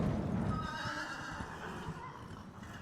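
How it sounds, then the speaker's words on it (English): A four-horse coach drawing up at night in a mountain pass, with a loud close horse neigh and snort at the start, then hoof clip-clop and rumbling movement fading under a low steady background. "A coach with 4 horses had drawn up beside us."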